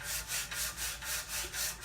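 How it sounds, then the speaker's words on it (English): Wood hand-sanded with 80 grit sandpaper on a sanding block, going with the grain, gives a close, steady rhythmic scratch of about eight back-and-forth strokes in under two seconds. "I'm using an 80 grit sandpaper, so it'll take off quite a bit."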